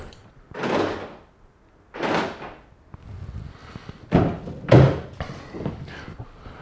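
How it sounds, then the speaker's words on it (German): An Opel Meriva's car door is shut to test repaired central locking, giving several separate thuds and clunks spaced a second or more apart, the last two the loudest and sharpest, with quiet moments between. "Dann machen wir jetzt mal die Tür zu und testen mal, ob die Zentralverriegelung funktioniert"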